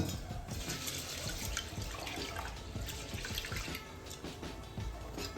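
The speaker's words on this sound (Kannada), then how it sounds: "ಸ್ವಲ್ಪ ತೊಳೆಯಿರಿ." Lentils are rinsed in water in a kitchen, with steady running and splashing water close by throughout and no voices.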